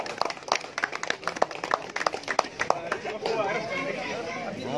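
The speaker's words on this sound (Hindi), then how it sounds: "तालिया भाई, जोरदार तालिया भाई, जोरदार तालिया।" Crowd clapping and cheering at a Republic Day (26 January) tournament prize-distribution ceremony, with bursts of claps mixed into lively chatter, building into steadier sustained applause toward the end.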